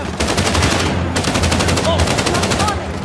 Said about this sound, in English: Chloe, you fucking shoot them!